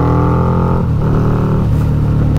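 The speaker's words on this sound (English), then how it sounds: "Can't beat the sound of drag pipes in the morning" A Harley-Davidson V-Rod motorcycle with drag pipes revs loud and close on a morning ride, its deep throaty exhaust rumbling steadily and rising, with no one talking.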